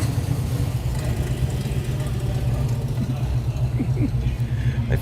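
A car engine rumbles steadily at idle after being fixed, a low, continuous drone at moderate level with people talking over it.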